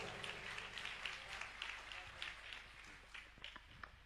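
An audience claps in steady rhythmic time at a bhajan kirtan, the applause filling the hall at moderate distance with sharper individual claps toward the end.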